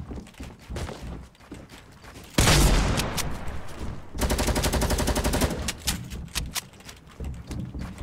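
Rapid gunfire in a Fortnite squads battle, a sudden loud blast followed after a pause by a fast rattling burst of shots, with quieter game noise around it.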